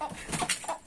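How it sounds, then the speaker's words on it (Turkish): A chicken clucks in a short burst of agitated calls while attacking, close and moderately loud, among Asil-type Indian fowl kept in a yard. "Tavuk saldırıyor orada tavuk."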